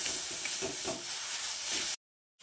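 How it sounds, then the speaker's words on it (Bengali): Beetroot sizzling in a pan with tempering spices as it is stirred, a soft steady hiss with faint scraping touches that cuts off abruptly into silence near the end. "সমস্ত বিট দেওয়া হয়ে গেলে কিছুক্ষণ বিটটাকে ফোড়নের সঙ্গে নেড়ে চেড়ে নিচ্ছি।"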